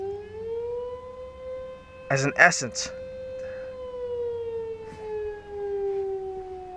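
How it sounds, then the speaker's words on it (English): A civil-defense-style siren wails steadily in the distance, its long tone slowly rising and falling, while a person briefly speaks over it. "there's a siren going off"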